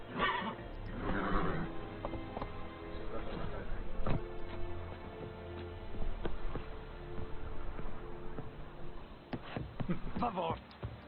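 A horse from the video game Witcher 3 whinnies and snorts amid hoof clip-clops and game sounds, with a person talking over it throughout.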